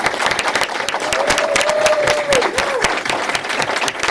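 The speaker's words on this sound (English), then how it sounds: "Let's give a round of applause for Leon Smith." Audience at a county commissioners meeting breaking into a round of applause, a dense continuous clapping with a brief voice heard partway through.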